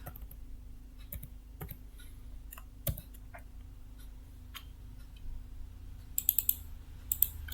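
Sparse, faint clicks of typing on a computer keyboard, scattered and irregular, with a short quick burst of keystrokes near the end over a low steady hum.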